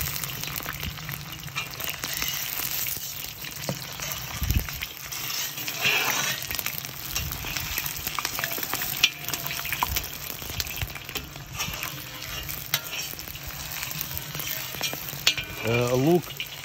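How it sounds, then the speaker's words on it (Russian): Onions deep-frying in oil in a kazan, a steady bubbling sizzle running throughout with occasional clinks and stirring noises, fairly loud and close with no talking. "Лук во фритюре готов"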